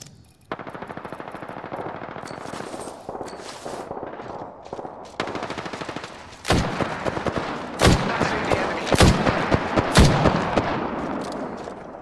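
Rapid automatic gunfire and sharp shots in the Apex Legends battle royale game, loud and close, with sustained bursts in the first half and heavier, punchier volleys later.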